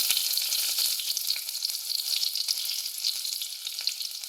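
Green chillies and onion hit hot oil right after mustard seeds have popped, cooking for a Kerala-style payar thoran; a steady, bright, crackling sizzle runs close and continuous with no voices.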